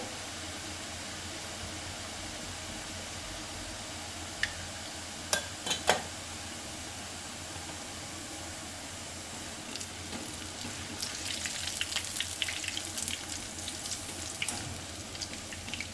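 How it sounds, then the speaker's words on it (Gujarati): Boondi fry in hot oil over a medium-low flame, giving a steady, even sizzle with a few sharp crackles and brighter spatters toward the end. "ધીમા ગેસે એને તળી લેવાની।"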